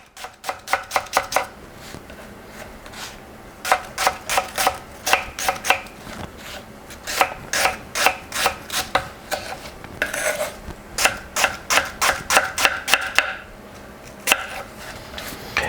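A knife finely chops shallots into brunoise on a board, rapid close bursts of crisp, even taps in runs of several strokes with brief pauses between, and no talk.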